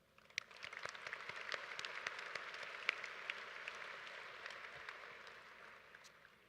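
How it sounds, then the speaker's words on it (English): Scattered applause from a modest crowd at a high school graduation ceremony, sharp individual claps rising quickly then thinning out and fading toward the end. "Please give another round of applause to my fellow colleagues"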